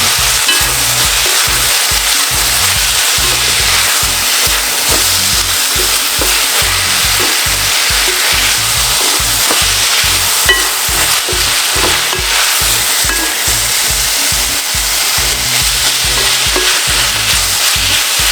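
Callaloo fries in a pot while being stirred, giving a loud, steady sizzle broken by a rapid run of scraping, knocking stirs that continues without a break, with no voices.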